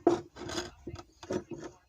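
Wood cut by hand with a blade rather than a power tool: close, rough rasping strokes in an uneven back-and-forth rhythm, about five scrapes in quick succession.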